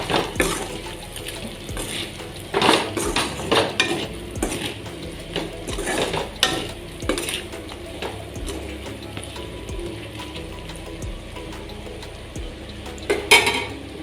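A spoon mixes potatoes with turmeric in a cooking pot for a low-oil pork curry, giving steady, irregular scraping and clattering against the metal, with louder knocks near the start and end.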